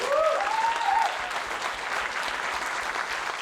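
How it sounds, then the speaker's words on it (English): Steady audience applause at an awards ceremony, a broad even wash of clapping with a short whoop or cheer near the start. "I think that deserves one more round of applause"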